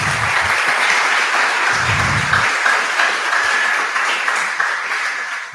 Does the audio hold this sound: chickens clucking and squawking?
no